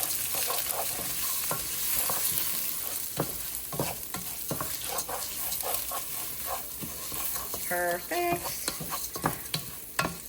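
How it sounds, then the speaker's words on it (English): One cup of pre-washed jasmine rice sizzles and toasts in a pan while a utensil stirs and scrapes it in repeated clicks. A brief word is spoken near the end. "I'm gonna toast up my rice for about 3 minutes."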